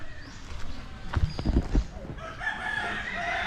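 A rooster crows at a distance in the morning amid faint background noise and scattered knocks, with other birds calling toward the end.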